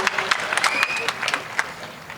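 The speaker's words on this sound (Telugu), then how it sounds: "గట్టిగా చప్పట్లు." Crowd applause at a gathering at Osmania University: a scattered but steady patter of many hands clapping for about two seconds, with voices carrying over it.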